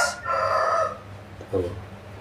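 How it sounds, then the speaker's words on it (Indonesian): A rooster crows loudly and close by in one drawn-out harmonic call, followed by a brief, softer second cluck. "Jam 1 kurang ayam berkokok"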